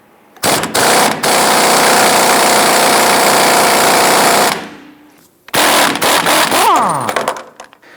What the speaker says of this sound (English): We're going to use a 21mm socket with our impact gun.